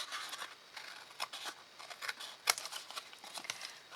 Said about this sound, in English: So just use your snips.